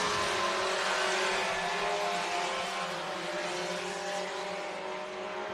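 Stock cars race around a dirt speedway, their engines droning in a steady, dense roar that fades slightly as the pack strings out down the back straightaway.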